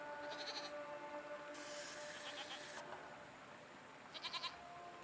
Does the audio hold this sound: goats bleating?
yes